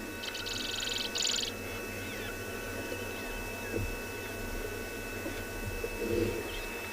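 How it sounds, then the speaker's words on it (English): Birdsong at sunrise on a safari at Tswalu: a quick burst of bright chirps early on, then sparse, faint calls over a soft, steady background hum, quiet and at a distance. "The birds chirping."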